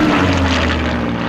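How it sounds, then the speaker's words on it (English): A Spitfire's four-bladed propeller driven by a liquid-cooled V12 Rolls-Royce Merlin engine roars loud and close, a steady droning tone with no voices. "flung through the heedless air by a four-bladed propeller powered by a V12 liquid-cooled Rolls-Royce Merlin engine"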